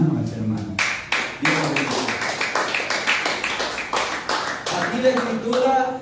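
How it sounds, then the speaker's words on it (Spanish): Church congregation clapping hands at a Sunday service, a dense run of overlapping claps filling the whole stretch at steady loudness, with a voice talking over the start and end. "Darle una ofrenda de palmas a ese hermano, a esa hermana"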